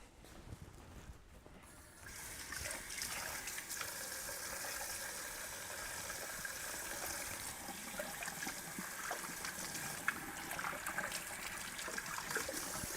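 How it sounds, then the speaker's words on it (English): Tap water runs steadily from a kitchen faucet while a knife is washed, a continuous close splashing flow under faint clinks, with no voices. "Wash the knife."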